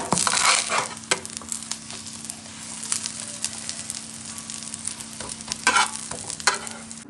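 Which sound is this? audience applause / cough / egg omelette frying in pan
egg omelette frying in pan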